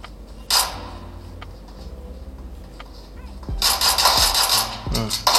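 Small pistol shots from a mobile shooter game played against bots, a few sharp bursts and cracks toward the end, loud and fairly close, over a low game backdrop with some faint talk earlier.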